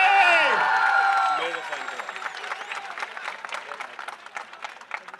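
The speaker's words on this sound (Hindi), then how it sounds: "एक दो तालियां बजा दें जरा लाला के लिए" An audience at a university gathering breaks into applause for Lala: a voice and harmonic tones at the start give way to a steady wash of many hands clapping, moderately loud and fairly close, holding to the end.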